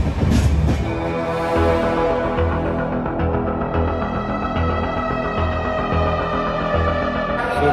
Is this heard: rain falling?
no